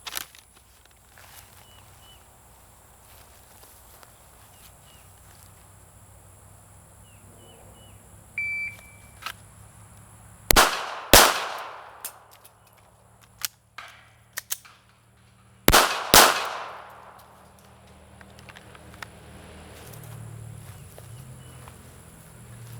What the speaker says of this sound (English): Draw, fire 2, emergency reload, fire 2 more.